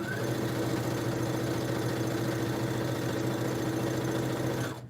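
Heavy-duty sewing machine running steadily with a continuous mechanical hum and rapid stitching rhythm, faint and alone, stopping at the end.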